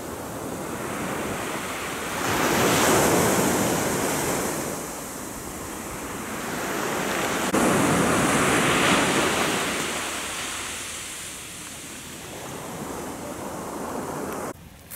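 Ocean waves surge and break on the shore of Niijima island, two big swells building and washing in roughly five seconds apart under steady wind noise, loud and close, with no voices.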